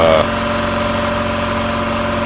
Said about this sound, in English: Up and running. It's not too loud of a compressor